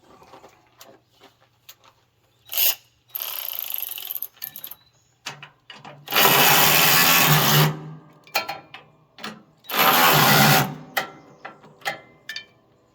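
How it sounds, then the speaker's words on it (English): A 5/8 socket tightening a bolt on a Liberty 3-point wood chipper during repair: a sparse run of short metallic clicks and ratchet-like ticks, with two longer, louder broadband bursts of mechanical noise in between, close by and without talk. "Now we're going to take our 5/8 socket in there and tighten that up."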